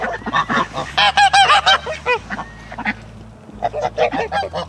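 A goose on a farm pond honks again and again in loud, close, rapid bursts. The calls pause briefly, then resume in another quick series.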